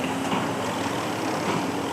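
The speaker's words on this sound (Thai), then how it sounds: "รถไถครับแทรกเตอร์" A Kubota M6040SU M-series tractor, a large model pushing a dirt pile, runs with a steady, loud, close engine drone that holds throughout.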